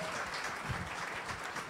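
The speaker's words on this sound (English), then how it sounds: "So please can we give a round of applause to my team?" Audience applause for an organising team at a live nominees announcement, a steady even wash of clapping held throughout at moderate level with no voices over it.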